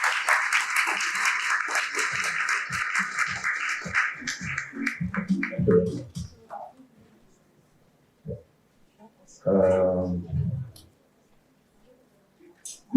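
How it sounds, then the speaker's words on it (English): Audience applause welcoming a keynote speaker at a career fair in Lagos, loud sustained clapping from a large crowd for about six seconds, tapering into scattered claps, followed by a brief burst of speech. "with a round of applause, please"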